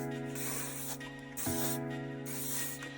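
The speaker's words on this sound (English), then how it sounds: "And then the spray." Medium-hold texturizing hair spray hisses from a can in three short bursts, soft and close, over a faint steady background hum.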